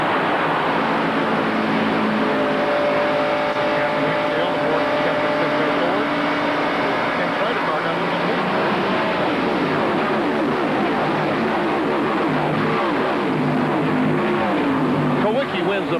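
NASCAR Winston Cup race cars roar around Michigan International in 1992, a dense, sustained engine drone from a close pack of stock cars, with a commentator talking over it.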